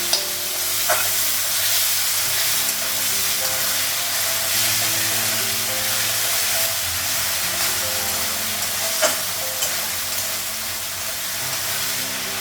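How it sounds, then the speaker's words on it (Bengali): Masala spices frying in a pan give a loud, continuous sizzle and hiss with soft stirring scrapes, close up, with a couple of faint knocks against the pan. "মশলাটা একটু ভেজে নিই"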